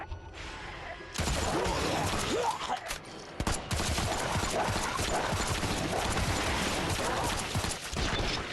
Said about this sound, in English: Claire, shoot the barrel.